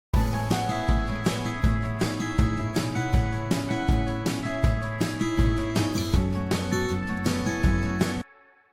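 A strummed acoustic guitar with tube distortion on its highs sits in a full band mix with drums and bass, its bright, airy strums pushed forward over a steady rhythmic groove for about eight seconds before stopping abruptly.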